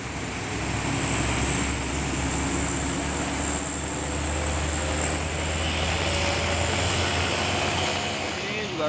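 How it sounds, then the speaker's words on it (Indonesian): Trailer truck hauling heavy equipment on wet asphalt just after rain, a steady loud engine drone with tyre hiss rolling past close by and holding for several seconds. "Ada satu unit truk Pusolos Pak membawa alat berat, dan ini baru saja selesai hujan, jadi aspal masih basah."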